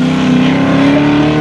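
A loud drift car with a dropped muffler revs in a sustained, droning blare at a drift event's opening day, close and steady for the whole short moment.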